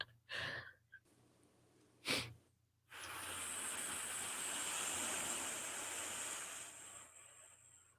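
A person imitates the ocean with a long, breathy whooshing exhale that swells and fades like surf, following two short breathy bursts, with background hum throughout.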